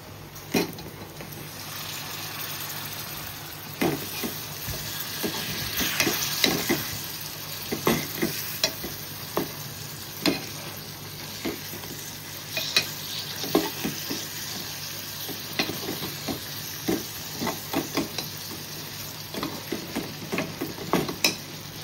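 Fish fries in a pan with turmeric and Agri masala, a steady sizzle broken by repeated sharp scrapes and clinks of a spoon stirring, close and continuous, without speech.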